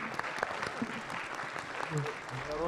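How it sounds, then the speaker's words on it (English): An audience at an engineering summit claps in steady applause, dense and close, with a voice speaking briefly underneath. "Please give them a clap."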